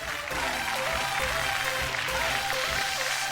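Steady, dense applause from a crowd honouring a woman who won a music, acting and dance musical-chairs contest on a stage show, continuous and loud throughout.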